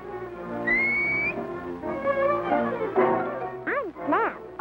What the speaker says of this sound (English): they come every morning as soon as I whistle